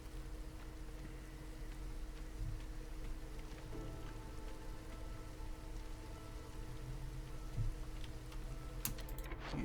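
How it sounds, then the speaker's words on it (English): Drizzling rain in the video game Against the Storm, a quiet, steady patter of fine drops with soft ticking over a low background hum, continuous and faint throughout. "Should have drizzle water coming in a second here."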